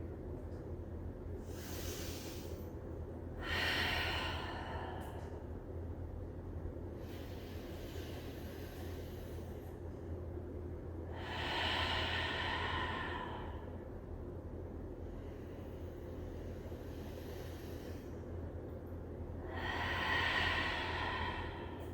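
Slow, deep breaths from a person holding a resting yoga pose with hips sunk toward the heels and forehead toward the mat, three soft airy exhalations spaced several seconds apart over a steady low background hum.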